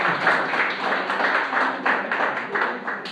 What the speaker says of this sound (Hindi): बजा दो बस एक बार।